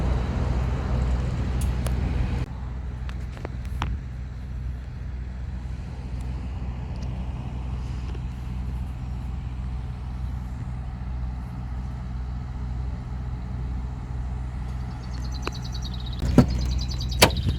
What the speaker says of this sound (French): Il y a beaucoup de camions.